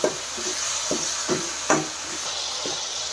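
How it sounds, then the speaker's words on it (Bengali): Cumin, coriander and turmeric spices sauté in oil in a pan, a steady sizzle broken by repeated spatula knocks and scrapes at irregular intervals, close by. "ভালো করে কষিয়ে নিচ্ছি"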